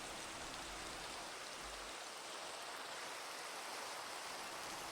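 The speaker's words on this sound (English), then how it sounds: "It's actually raining." Rain falls steadily in a modded Minecraft world, a faint, even hiss of dense drops that holds unchanged throughout, with no voices.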